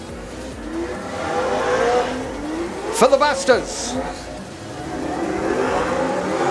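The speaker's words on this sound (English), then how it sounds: "wait till you hear that car wind up" Speedway race car at Oceanview Speedway in Wanganui, New Zealand, its engine winding up in a quick rising rev with a couple of sharp peaks mid-clip, heard over crowd murmur while someone talks before and around it.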